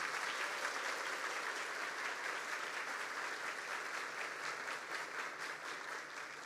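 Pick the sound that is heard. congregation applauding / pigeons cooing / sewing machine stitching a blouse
congregation applauding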